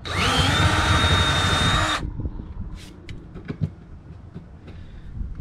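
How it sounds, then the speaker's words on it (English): A power drill with a 5/8 bit enlarges a hole in steel during skid steer maintenance on a Bobcat 843, whining loud and steady for about two seconds before stopping abruptly, leaving quiet workshop clatter. "just grab the trusty drill and a drill bit"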